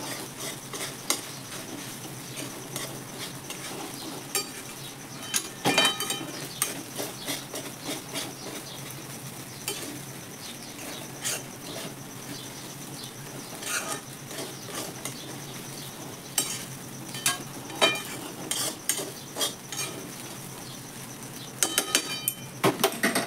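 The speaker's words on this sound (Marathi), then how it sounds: "आपल्याला ते आता व्यवस्थित हलवून घ्यायचं आहे" Potato mixture for an Ashadhi Ekadashi fast dish being stirred in a frying pan, with repeated scraping and clinking strokes of the spoon over a soft sizzle and bursts of brisk stirring.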